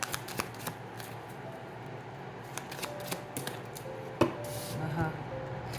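Tarot cards are shuffled and drawn in a run of quick papery riffles and flicks, close and fairly quiet, ending in a sharper snap and a few soft slides.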